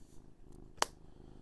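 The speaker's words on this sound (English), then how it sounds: "Well, there goes my cat." Pet cat purring close up, a low steady rumble under the room noise with one sharp click partway through.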